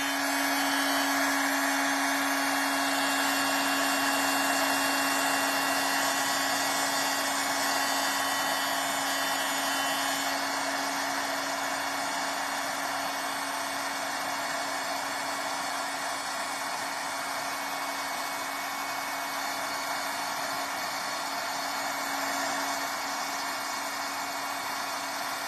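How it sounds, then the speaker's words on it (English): A heat embossing tool melts embossing powder on a Christmas card, giving a steady, loud, continuous blowing whir with a constant tonal hum that runs unbroken for the whole stretch, alone without any talk. "I am going to heat emboss this, so you'll hear a little noise."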